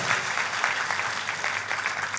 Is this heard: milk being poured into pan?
no